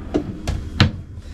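Drawers in a 2021 Entegra Ethos 20T Ram Promaster camper van slide out, giving three quick, close, muffled thuds in a row.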